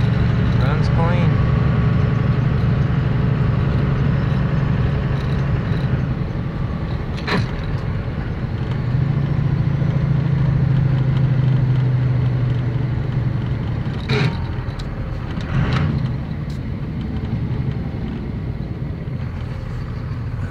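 A 1999 car with a 24-valve 3500 engine cruising smoothly in fifth gear overdrive, a steady low engine drone with a few sharp clicks and knocks on top, while a person talks over it.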